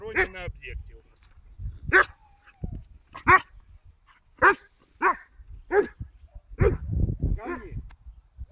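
A young dog in guard training barks in short, sharp bursts, roughly a bark every second or so, close by with a handler's voice and commands in between.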